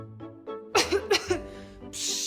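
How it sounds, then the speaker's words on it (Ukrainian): A few harsh, breathy coughs burst out in quick succession between quieter voiced sounds, close and fairly loud. "Кашель"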